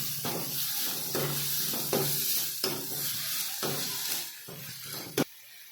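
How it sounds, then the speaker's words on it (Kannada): Cabbage frying in a pan for a veg roll: a steady close sizzle with repeated stirring scrapes and a sharp knock of the spatula near the end, no voices. "ಈಗ ತರಕಾರಿ ಕ್ಯಾಬೇಜ್ ಹಾಕ್ಕೊಂಡಿನಿ, ಇದನ್ನು ಸ್ವಲ್ಪ ಫ್ರೈ ಮಾಡ್ಕೊತೀನಿ"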